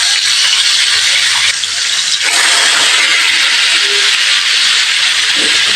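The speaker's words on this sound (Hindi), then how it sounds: "मैं घी डाल के थोड़े घी में फ्राई कर लेती हूँ।" Chicken pieces frying in hot ghee in a pan, a loud, steady sizzle and hiss that runs unbroken from start to finish with no talking.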